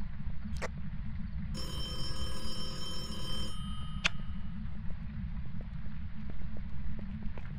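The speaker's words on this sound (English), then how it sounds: "The phone rang again." Telephone ringing in the horror game Phasmophobia, a single bright ring lasting about two seconds amid a steady low hum and a few faint knocks, with no talking.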